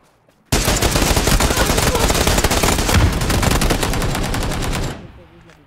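Rapid automatic gunfire in PUBG bursts in abruptly and rattles on loud and dense for about four seconds, then fades out into a faint tail.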